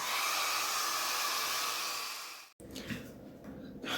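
A hair dryer blows steadily at close range to dry a watercolor painting, then cuts off abruptly, leaving faint rustling and handling sounds.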